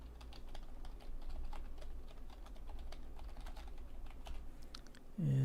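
Login credentials typed on a computer keyboard for a Linux store in SolusOS, a quick run of close, soft key clicks in uneven bursts that ends with a louder thump.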